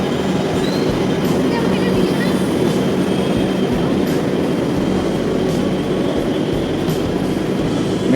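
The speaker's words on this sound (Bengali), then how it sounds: "আমাদের মেট্রো বলতে না বলতে চলেই এসছে" A metro train pulls into a station, its steady rumble and rail noise running loud and continuous throughout with no clear breaks.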